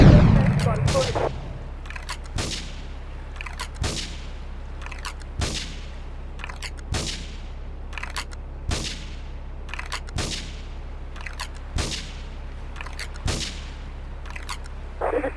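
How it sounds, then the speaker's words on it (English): Intermittent gunshots ring out in the video game GTA III, single sharp cracks spaced a second or two apart over a steady low hum, with a louder burst at the start and a police radio voice chattering between shots. "Investigate reports of gunfire and explosions."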